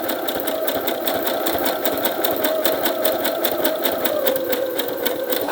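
A sewing machine runs fast and steady, stitching a zigzag pattern across fabric pockets, its needle clatter a rapid, even rhythm close by and loud, with no voices over it.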